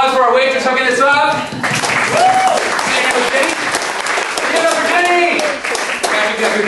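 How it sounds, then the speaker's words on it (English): A bar crowd at a Guinness gulping contest gives a round of applause for a waitress. The clapping is dense and steady throughout, with voices calling out over it. "Big round of applause for our waitress hooking us up."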